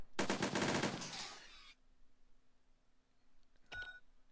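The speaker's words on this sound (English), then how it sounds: "Then my support team can fire here." Rapid burst of support-team gunfire from the WWII tabletop-style video game Heroes of Normandie on PC, a loud rattling volley for about a second and a half, followed by a faint hum and a short sharp electronic effect near the end.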